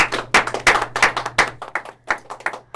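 Studio audience clapping to vote in a debate, a dense burst of handclaps that thins into scattered claps, loud and close, with a steady low hum underneath.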